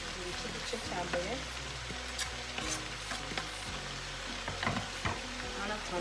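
Onions are stirred as they fry in a pan for a cabbage dish, with a steady loud sizzle and scraping strokes repeating throughout.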